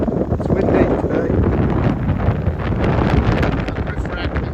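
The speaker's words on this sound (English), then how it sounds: "it's windy today." Strong wind buffets the microphone outdoors beside a camper van, making a loud, continuous rumbling roar. The noise stays dense and unbroken throughout, with nothing else standing out.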